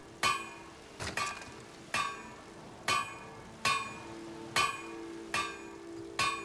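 Blacksmith's hammer striking metal at a forge in Skyrim while crafting steel bolts, eight or so sharp ringing clangs at a steady, roughly one-per-second pace, clear and close with no talk.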